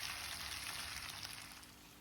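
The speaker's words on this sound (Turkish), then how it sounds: "Yağ iyice ısındıktan sonra 1 kilo yağsız dana kuşbaşı kebaplık et ekleyerek güzelce" Steady crackling sizzle of meat frying in hot oil, dense and continuous, close by with no voices.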